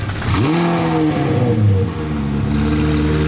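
A Koenigsegg Agera with a non-original tube exhaust, at a Paris car rally, idles loudly up close, then its engine swells into a rev that climbs, holds and settles back to a deep, steady rumble.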